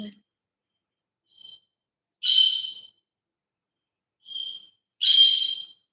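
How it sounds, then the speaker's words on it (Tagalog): A pet bird chatters indoors with a few brief, high, thin whistled calls and chirps in short bursts separated by silence, close and fairly quiet. "Yung ibon ko na lang ang daw ang magdaldal."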